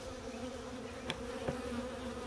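Honeybees hum steadily around an open hive during an inspection, a continuous close buzz with a couple of brief clicks, likely from the hive tool, and no talking.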